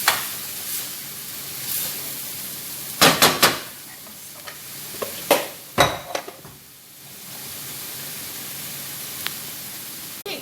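Minced onion fries with meat in a pan under a steady background hiss. A few clattering knocks of utensils against the pan cut through near the start and middle, and nobody talks.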